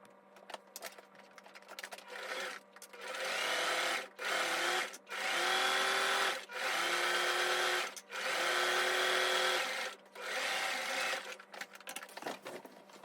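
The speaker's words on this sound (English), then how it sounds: "We're going to sew a 1/4 inch all the way down the long side." A sewing machine runs a quarter-inch seam along fabric for a scrunchie keychain, whirring steadily in several sustained bursts separated by short pauses, close and fairly loud, with faint handling noise at the start and end.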